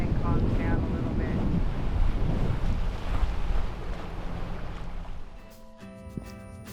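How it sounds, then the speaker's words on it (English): Wind of about 16 knots buffets the microphone on a boat motoring toward a marina on the Pacific coast of Mexico, a loud, gusty roar with water wash underneath that eases toward the end. "It's a little bit windy. We got like 16 knots."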